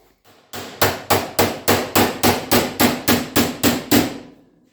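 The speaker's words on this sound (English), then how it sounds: "now all I got to do is just hammer this over" A hammer strikes a steel car door skin about a dozen times, folding it over, in a steady, even rhythm, each blow sharp, loud and ringing, with nothing else heard.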